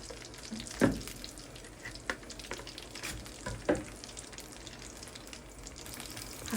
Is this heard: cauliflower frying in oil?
yes